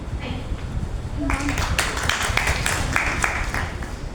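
An audience of college students at a youth event claps steadily through a hall, the applause swelling after a moment and continuing under a voice speaking.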